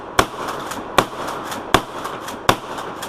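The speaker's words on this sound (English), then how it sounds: "That's a badass shotgun, that's for sure." Shotgun firing at an outdoor range: four sharp, loud blasts spaced roughly three quarters of a second apart in a steady rapid rhythm, with no talking.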